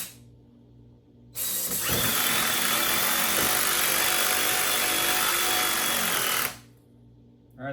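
A Ryobi USB lithium screwdriver starts up and runs steadily for about five seconds, a loud even high-pitched motor whine and buzz, then cuts off abruptly.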